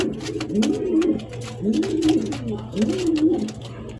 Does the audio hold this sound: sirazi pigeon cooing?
yes